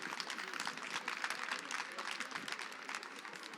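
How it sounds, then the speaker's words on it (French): Audience applause at a French conference on women's entrepreneurship, a dense steady patter of many hands clapping for several seconds at moderate volume, with no clear voices over it. "On peut les applaudir."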